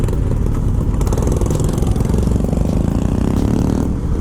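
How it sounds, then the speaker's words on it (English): A motorcycle engine runs loud and close, its rumbling exhaust broken by repeated sharp pops and crackles of backfire throughout. "Oh, backfiring like crazy."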